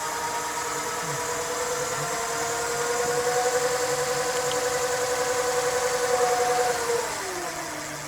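An electric bike's motor under throttle, a steady whine with tonal bands that climb gradually as it accelerates, loud and continuous for about seven seconds before easing off, with no talking.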